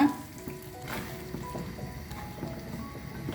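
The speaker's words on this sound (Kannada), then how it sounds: "ಇದು ಚೆನ್ನಾಗಿ ಕುದ್ದಿದೆ ಅಲ್ವಾ ಇವಾಗ ಒಗ್ಗರಣೆನ ಸೇರಿಸ್ಕೊಳ್ಳೋಣ" Hot tempering poured into boiled spinach and peanut gravy, a North Karnataka dish, sizzling and crackling steadily at moderate level for a few seconds, with no talk.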